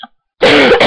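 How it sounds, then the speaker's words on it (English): A single loud, harsh cough or throat-clearing close to the microphone, following a brief faint vocal sound. "sorry about the cough"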